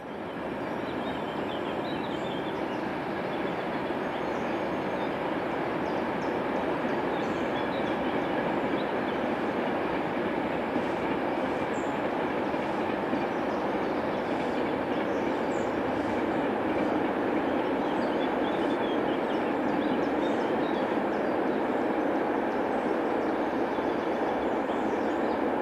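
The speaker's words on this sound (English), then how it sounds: "A Class 26000 electric is seen heading an eastbound steel coil train." A Class 26000 electric locomotive heading an eastbound steel coil train passes with a steady, moderately distant rumble of wagons rolling over the rails, sustained and even throughout with faint clicking of wheels on track.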